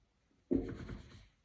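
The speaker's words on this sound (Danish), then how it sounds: "Så vi skriver" Equations being written by hand during a maths lesson: one close, scratchy stroke that lasts under a second, quiet and alone with no talk over it.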